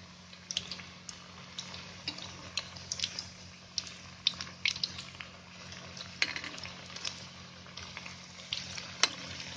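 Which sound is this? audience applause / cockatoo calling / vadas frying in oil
vadas frying in oil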